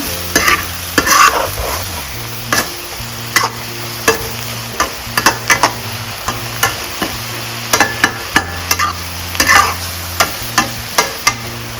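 Shrimp stir-fried with vegetables in a pan gives a loud, continuous sizzle broken by frequent sharp scrapes and clacks of a spatula tossing the food, all close and with no voices.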